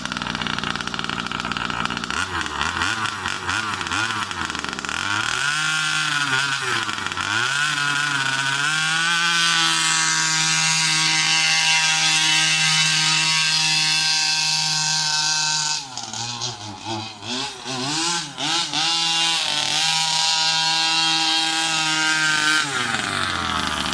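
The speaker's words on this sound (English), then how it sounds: "Since the last time I started it, I didn't prime it again, so that's why I'm getting that misfire." A Rovan 36cc double-ring two-stroke Baja motor warms up unprimed, its buzzing engine note rising and falling and stumbling in uneven misfires, loud and close for the whole stretch with no voices.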